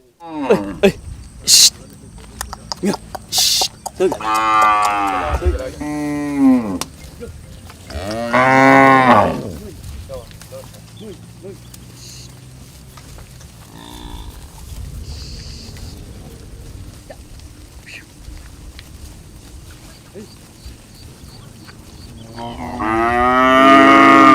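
Cattle herded by Fulani herdsmen moo repeatedly, several long, loud lowing calls near and far with gaps between them, over outdoor pasture ambience and scattered rustling.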